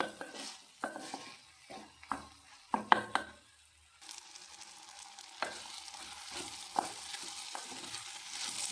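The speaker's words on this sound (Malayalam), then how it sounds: "അതൊന്ന് ഇളക്കാം ഇളക്കിയിട്ട് നമുക്കൊന്ന് അടച്ച് വയ്ക്കാം" Plantain and egg thoran is stirred in a pan, with a series of distinct spatula scrapes and knocks against the metal over a faint sizzle, the later strokes sounding against a slightly louder, steadier frying hiss.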